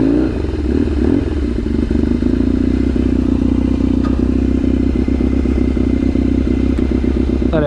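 A Kawasaki KZ750 scrambler motorcycle engine runs at a steady, loud idle, its even mechanical thrum close by and continuous with light clattering throughout.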